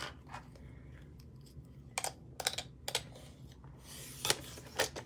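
A paper trimmer cuts a piece of cardstock to 4 inches for a handmade bridge funfold card, heard as several quiet, sharp slicing and clicking strokes close by, with no talking.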